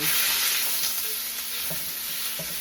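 A whole can of bean sprouts fries for fried rice in a pan on a gas stove on high heat, giving a loud continuous sizzle with occasional stirring clicks and no talk.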